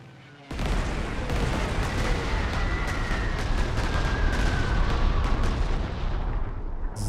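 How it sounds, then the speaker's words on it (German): Bombers attack in the WWII strategy game Panzer Corps 2: after a brief quiet start comes a dense, sustained roar of explosions and artillery-like blasts, loud and continuous until the end. "So, die Bomber knallen wir hier noch drauf."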